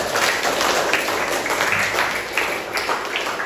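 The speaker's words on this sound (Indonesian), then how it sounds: "Oke, 125 tepuk tangan dulu." A classroom of students clapping hands together in a steady, dense patter at close range, sustained without a break and with no clear talk over it.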